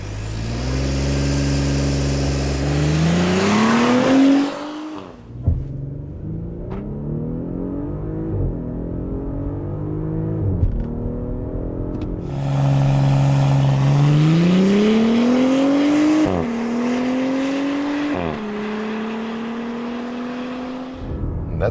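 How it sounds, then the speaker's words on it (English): A 2018 Audi SQ5 with a V6 petrol engine accelerating hard from 0 to 100 km/h, loud rising engine roar through several gear changes, each upshift dropping the pitch before it climbs again, with no talking. "show you the 0 to 100 kilometers acceleration"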